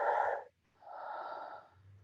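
Slow, deep breathing during a pelvic reset breathwork exercise: a long airy exhale, a short pause, then a full drawn-in breath, close and quiet with no talking.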